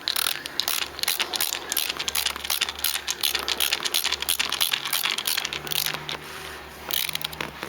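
Screw being driven in beside the lifted recline lever of a Super Duty seat during assembly, a dense run of quick ratcheting clicks repeating steadily at close range, with no talk.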